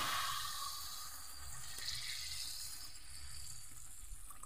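Steady water pours continuously into a cooking pot, a soft broadband rush with a slight liquid hiss, fairly close and with no talking.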